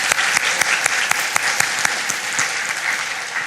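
A Sunday church congregation gives a round of applause to God. The clapping is full and steady and fills the hall, with individual claps standing out in the dense wash for the whole moment.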